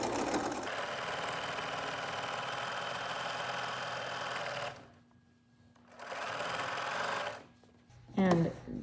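A sewing machine stitches through a minky blanket in long runs, a steady mechanical whirring that stops and starts with short pauses, with someone talking in the background.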